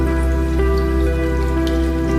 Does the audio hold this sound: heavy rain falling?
yes